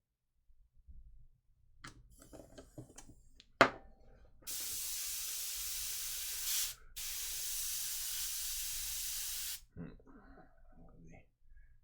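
An airbrush sprays paint containing flake onto a model car in two loud, steady bursts of bright hissing air, the first about two seconds long and the second about three, after a few quiet handling clicks.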